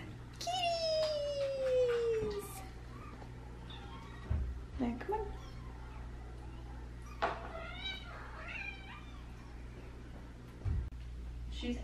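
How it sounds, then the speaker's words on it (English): Several pet cats meowing in turn, clear and fairly close, with rising and falling calls spread across the stretch, amid a quiet household room. "But Emma, do you wanna go see the kitties?"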